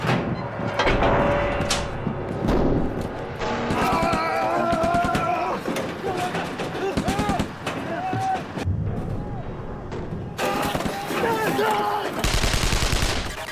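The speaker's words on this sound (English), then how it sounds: "The tanks hose each other with machine gun fire to wipe the enemy off." Bursts of tank machine gun fire crackle through a battle scene, broken up by clanks and other impacts, with a voice talking over part of it.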